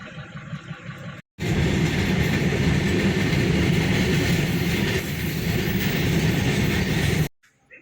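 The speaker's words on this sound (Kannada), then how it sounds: "ಇವಾಗ ನೋಡಿದರೆ ರೈಲ್ ಹೋಗ್ತಾ ಇದೆ" A train rolls loudly and close past a lowered railway gate, a continuous rumble with rhythmic wheel clatter lasting several seconds before cutting off abruptly.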